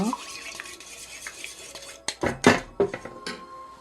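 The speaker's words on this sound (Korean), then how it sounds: "거품이 안 나게 그렇게 저으셔야 돼요." A metal spoon stirs beaten eggs seasoned with salt in a bowl for a Korean rolled omelette: quick light swishing at first, then a run of sharp, close clinks and scrapes against the bowl.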